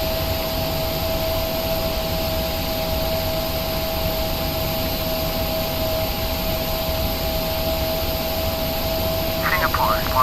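A simulated Cargolux PMDG Boeing 777F freighter landing in Prepar3d, with a steady loud jet-engine whine and roar held throughout, a high tonal hum over broadband rush, and radio talk mixed in.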